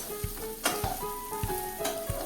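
Patra bites, rolled colocasia leaf pieces, sizzle steadily in a pan of hot tempering oil, with a constant close frying hiss and a few soft stirring knocks.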